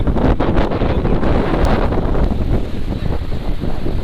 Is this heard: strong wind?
yes